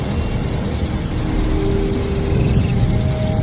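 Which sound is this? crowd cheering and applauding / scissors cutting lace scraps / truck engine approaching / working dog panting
truck engine approaching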